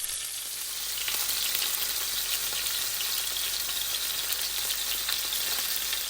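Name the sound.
fish fillets frying in a pan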